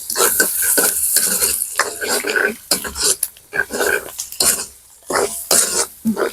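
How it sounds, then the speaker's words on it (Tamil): Onion and green chilli are stirred and mixed into puttu kothu in a pan: loud, busy scraping and clattering in uneven bursts, with a throat-clearing cough in between. "நல்ல வடிவா கலந்து விடுவோம்"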